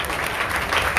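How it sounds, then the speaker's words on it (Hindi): Audience applause at a Srimad Bhagwat saptah religious gathering in Baraut, a dense, steady wash of many hands clapping heard on its own. "उनके लिए जोरदार तालियां।"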